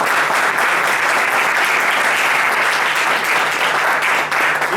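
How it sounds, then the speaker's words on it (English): An audience at a hospitality-industry event applauds an introduced guest, a loud, continuous round of clapping from many hands that holds steady for several seconds. "can I have a round of applause?"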